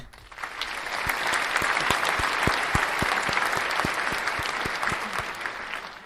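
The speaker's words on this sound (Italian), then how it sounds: "Devo fare gli applausi" Canned applause from a soundboard during a live Serie A post-match show, a dense, steady wash of clapping and crowd noise holding level for several seconds after a soft start.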